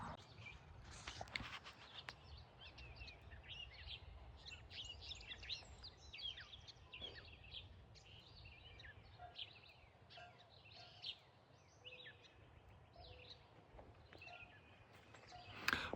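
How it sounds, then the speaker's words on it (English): Many birds singing and chirping in overlapping morning calls on a farm, a lively chorus at moderate distance over quiet background. "Birdsong here is incredible this morning"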